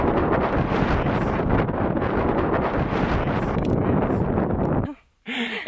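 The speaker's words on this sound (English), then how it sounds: "Extremely cold, extremely windy." Strong, steady wind roars across the microphone high on the snowy Nevado de Toluca volcano at about 16,000 feet, a loud continuous buffeting that drops out briefly near the end before gusting back.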